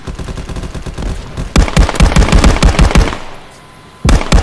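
Rapid automatic gunfire in the Contractors VR shooter game, loud and close, in bursts of tightly spaced shots that break off briefly near the end before firing resumes.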